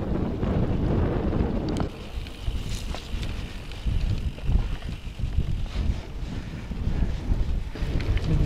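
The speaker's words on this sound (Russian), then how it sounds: "И ветер такой не слабый." Strong wind of about 20 metres per second buffets the microphone in heavy low rumbling gusts during a mountain bike ride, easing briefly then surging again, with faint water sounds underneath.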